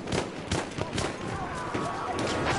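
Gunfire from Battlefield 1 rattles in quick, overlapping shots close by, a dense burst of firing with a busy background of battle noise.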